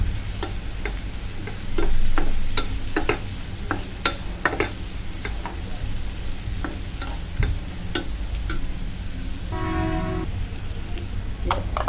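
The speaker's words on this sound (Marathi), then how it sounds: "हे आता मीडियम टू हाय गॅसवर आपण परतत राहणार आहोत तेल सुटेपर्यंत" Masala paste sautéing in oil over medium-high heat for a Konkan-style prawn curry sizzles steadily, with a spoon scraping and tapping the pan at close range under a low background rumble.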